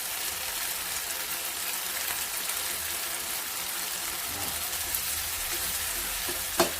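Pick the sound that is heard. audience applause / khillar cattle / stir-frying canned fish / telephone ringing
stir-frying canned fish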